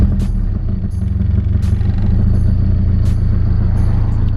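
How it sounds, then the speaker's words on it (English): A Nissan S13 with a suspected misfire idles loudly and close after starting, a low rumbling engine with a steady pulsing beat and a few light clicks and clatters over it. "We'll start it up and see if it's misfiring."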